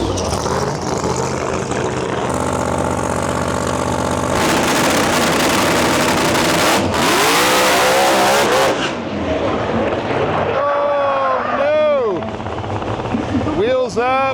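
Drag racing cars roar through test runs at the Rocky Mountain Nationals, loud engines revving and screaming past one after another, with shifting engine pitch and a brief tire squeal filling the whole stretch.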